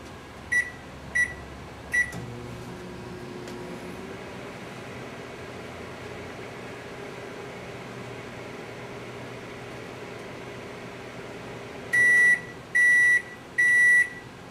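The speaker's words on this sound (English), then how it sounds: "Here's the sound of a typical household microwave oven." A typical household microwave oven hums steadily for several seconds between beeps: three short button beeps at the start and three longer completion beeps near the end, with a fan whirring faintly in the background.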